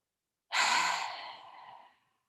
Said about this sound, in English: take a breath together